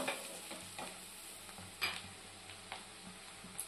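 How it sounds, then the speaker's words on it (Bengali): Chopped onions fry with cumin in melted butter, producing a quiet, steady sizzle close by, punctuated by several sharp spatula scrapes and taps against the pan. "পেঁয়াজটাকে লাল লাল করে ভেজে নেব।"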